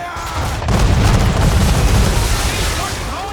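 Ship cannons fire a broadside in Assassin's Creed III, a loud, sustained rumbling roar of overlapping booms after a brief sharp onset, with shouting voices mixed in.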